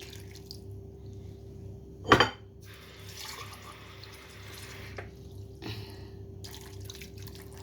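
Water splashes and trickles into a pan of tilapia with vinegar and black pepper for several seconds, with a sharp clatter near the start over a steady low hum.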